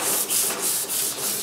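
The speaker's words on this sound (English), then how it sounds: "And you want to sand in one direction." Sandpaper rubbed back and forth over the painted metal panel of a washer or dryer, loud and close, in even rhythmic strokes of roughly a quarter second each.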